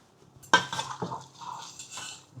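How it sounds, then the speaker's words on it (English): Prawns stirred in a pan with a metal utensil, with a sharp clink at the start and then a run of scraping and clattering against the pan, close and fairly loud, no talking. "Stir those prawns in, and we're just gonna let those cook."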